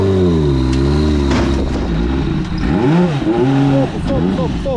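An 800 hp, 1000 Nm car engine revs hard and loud up close, its pitch rising and falling in repeated sweeps as it pulls away.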